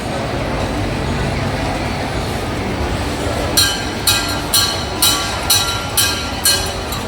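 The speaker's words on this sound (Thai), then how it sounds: "โบกมือรถไฟหน่อยบายบายรถไฟหน่อย" A passing train heard from nearby on an outing, its wheels beating a steady rhythm of sharp regular clacks over rail joints for the last few seconds above a constant low rumble of traffic.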